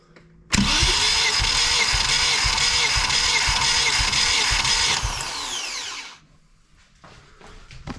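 An engine fires up abruptly and runs loud and steady for several seconds on a Mini John Cooper S Sport with a rough idle, then winds down and cuts off, leaving near silence.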